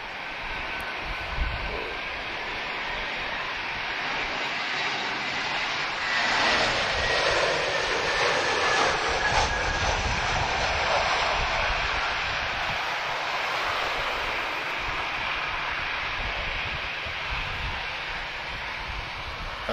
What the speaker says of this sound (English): Great job there from TAP with the A320 from Milan